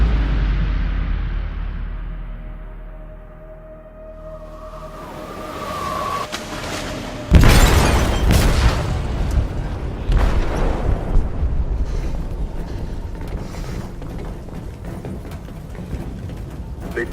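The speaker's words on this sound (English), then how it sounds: "They detonated an explosive in the hold." An explosion erupts in a ship's hold in Detroit: Become Human, a sudden heavy boom after a quiet, rising rumble, followed by a long roaring, crackling tail of debris and rumble.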